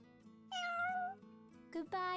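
Cats in the video game Shining Resonance Refrain give a few clear meows, one long cry followed by two shorter ones, over a soft game music backdrop.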